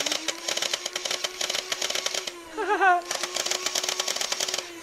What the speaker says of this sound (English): It kind of makes this clicking noise like it's like shooting or shifting.